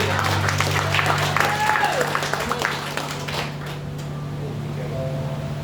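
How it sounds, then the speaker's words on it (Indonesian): Congregation applause fills a Christmas church service, dense clapping that is loud at first and then thins and fades toward the end, with a steady background hum. "Berikan tepuk tangan bagi kerajaan Allah"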